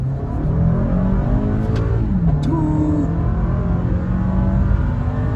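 A 2022 Toyota Camry LE engine revs and pulls away under hard acceleration in first gear, a loud continuous motor drone with a rising whine, heard from inside or close by.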